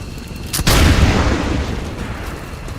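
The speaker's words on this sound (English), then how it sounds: "and then shoot it with my pistol" A single sharp pistol shot in the video game XCOM 2, a loud crack followed by a booming, slowly decaying tail that fills the rest of the clip.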